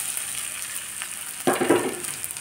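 Rice goes into hot oil tempered with cardamom and a bay leaf, a low background hiss that swells into a louder crackling sizzle partway through, with no talking.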